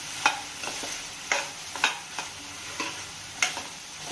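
Pasta and vegetables with coriander powder and garam masala are stirred in a pan, giving a soft sizzle broken by several sharp spoon clicks and scrapes in an irregular rhythm, close and fairly quiet, with no talking.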